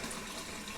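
Hot water running steadily from a tap into a sink during a home energy assessment, a continuous soft hissing splash with no voices.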